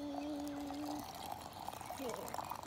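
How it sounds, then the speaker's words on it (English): Ten ounces of water is poured into a shaker of mixed berry protein drink powder, a soft close trickle and fill running steadily for a few seconds at low level. "Next step is you're simply gonna add 10 ounces of water."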